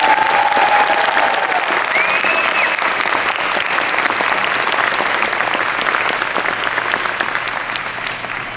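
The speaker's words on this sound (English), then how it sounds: "Students, let's give a round of applause." Sustained audience applause fills a white coat ceremony for student dentists, a dense, steady wash of many hands clapping at even loudness throughout, with a faint voice or tonal sound briefly audible early on.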